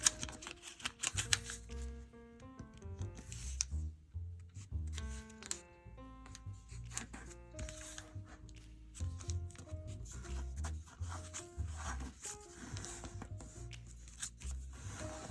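A dollar bill is folded and creased into an origami ring, with close crisp paper crackles, rustles and sharp creasing snaps coming in irregular bursts throughout.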